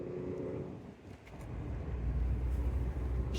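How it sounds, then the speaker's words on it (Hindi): A Tata Nexon's turbo engine pulling in second gear, heard from inside the cabin as a low, steady drone that builds slightly in the second half, with no talking. "जब टर्बो एक्टिवेट होता है तो आपको आवाज आएगी"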